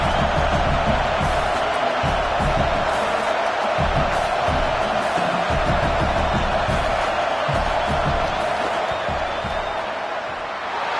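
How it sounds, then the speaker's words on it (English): A large stadium crowd at a college football game roars steadily and loudly during a field goal attempt, a dense unbroken wall of noise with scattered whoops. "This crowd trying to do its part to get inside the kicker's head."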